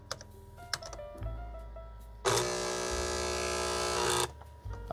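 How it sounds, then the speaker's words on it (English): An SWTPC PR40 printer mechanism, one of the first printers for a home computer, starts with clicks and ticks, then gives a loud steady mechanical buzz for about two seconds before stopping, followed by more faint clicking. "Turn the printer on."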